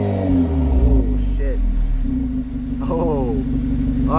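A car engine idles and revs through its muffler at the rear, a deep throbbing rumble with rising pitch sweeps, heard up close with people talking over it.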